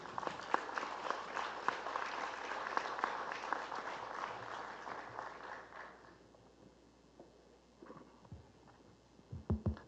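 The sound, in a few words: audience round of applause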